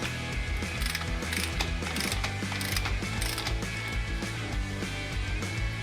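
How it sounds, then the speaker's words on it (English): A hand ratchet clicks steadily as it loosens the rear wheel axle nut on a Yamaha YZ motorcycle during chain adjustment, a close, fairly quiet run of rapid metallic pawl ticks with no talking. "To begin the chain adjustment, loosen the rear wheel axle nut"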